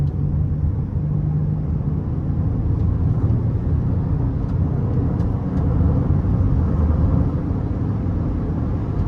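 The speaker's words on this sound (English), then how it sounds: "Let's give it some throttle here." A 2012 Buick Enclave's 3.6 V6 with 161,000 miles pulls under throttle from inside the cabin, a loud, steady low rumble and drone with road noise, continuous and without speech.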